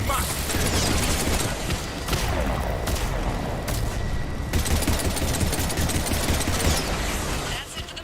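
Missiles fired in the Mass Effect 3 video game: a dense, continuous barrage of loud rumbling blasts and rapid bangs over an engine drone, with a voice faintly underneath.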